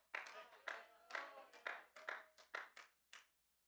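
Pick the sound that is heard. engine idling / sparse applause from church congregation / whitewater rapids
sparse applause from church congregation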